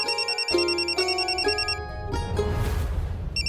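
A telephone rings loudly with repeated electronic trilling bursts in a regular pattern, close and clear with no voices over it.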